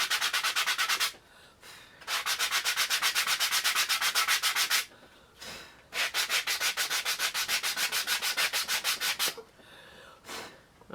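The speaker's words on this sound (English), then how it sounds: "let me just shave this. Sand it" A miniature wooden piece is sanded by hand in quick rhythmic back-and-forth strokes, three bursts of scratchy rubbing separated by short pauses, close and clear with no talking.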